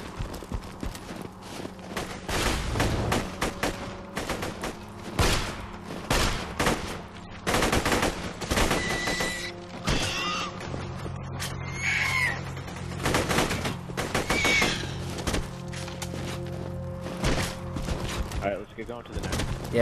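Pistol fire in the shooter video game Borderlands 2: sharp, distinct shots at an uneven pace, mixed with game effects and voices over a busy game soundscape.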